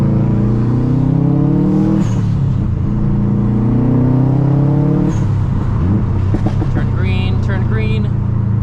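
A Stage 2+ Subaru WRX STI with a loud aftermarket exhaust pulls hard through the gears. Its rising engine drone breaks at each shift, and the turbo and exhaust crackle loudly toward the end, close to the listener.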